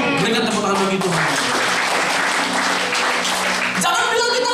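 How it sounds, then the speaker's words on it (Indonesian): A church congregation at a worship service breaks into loud, dense applause close by, with voices and cheering mixed into the clapping before it tapers near the end. "Berikan tepuk tangan bagi Tuhan"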